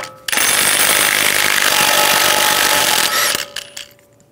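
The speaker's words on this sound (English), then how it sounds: "Using a 36 millimeter socket, take the axle nut off." Air impact wrench spinning a 36 mm socket to remove the front axle nut on a Ram 1500 (2011-2018) during a wheel bearing and hub job, one loud sustained burst of about three seconds before it winds down.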